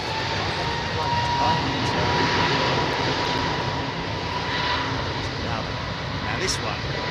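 A jet airliner with Rolls-Royce engines at London Heathrow Airport gives off a continuous loud, broad engine roar that holds steady throughout, with a person speaking underneath it.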